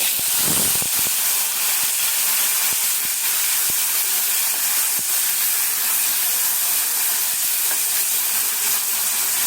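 Chillies frying in hot oil with radhuni seeds before potatoes go in, giving a loud, dense, continuous hiss. Sharp spits and pops stand out near the start, and scattered ticks continue throughout, with no talk.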